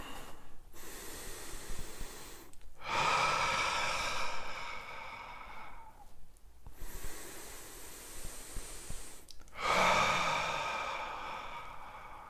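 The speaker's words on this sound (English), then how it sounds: "We're going to take a deep breath together." A group breathes deeply together during a guided exercise, making long audible inhales and exhales in a slow repeated rhythm, close and fairly quiet, with no talking.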